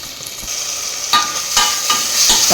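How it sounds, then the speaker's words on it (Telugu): Onions sizzle loudly in a hot pan, a bright continuous crackle of frying punctuated by several scraping stirs that come in short bursts near the end, with no voices. "ఆనియన్స్ బాగా ఫ్రై చేసుకోవాలి."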